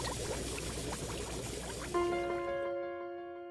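Liquid methane is poured, giving a close, bubbling, splashing pour that shifts into a sustained ringing tone as the flow continues, then fades out.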